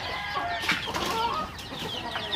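Backyard chickens pecking at spilled feed cluck and chatter in a busy cluster of short calls, close and continuous over a brief stretch.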